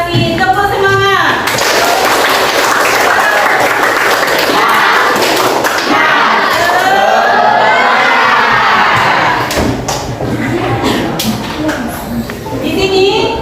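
Schoolchildren in a classroom doing a rhythmic spirit clap while shouting and cheering loudly together, a lively, close crowd of young voices with clap thumps throughout.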